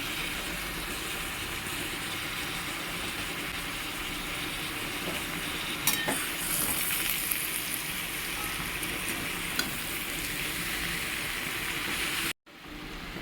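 Bottle gourd greens fry in a pan with a dense, even hiss like rushing water. Occasional faint knocks mark the stirring, and the sound stops abruptly just before the end with no voices.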